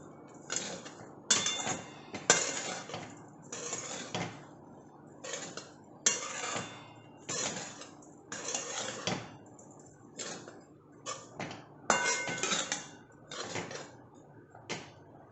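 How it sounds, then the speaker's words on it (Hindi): A spoon clinks and scrapes against a bowl while dahi poha is mixed with sugar, in a quick, uneven run of sharp metallic taps and rattles close up with quiet gaps between bursts and no voices. "इसे भी अब हम अच्छी तरह से मिक्स कर लेंगे।"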